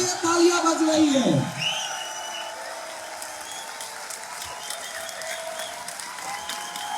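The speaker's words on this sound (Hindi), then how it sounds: "जोरदार तालियां होना चाहिए, जोरदार।" Audience applause in a large hall, loud clapping with voices over it at first, then settling into a steady, softer patter of claps continuing to the end.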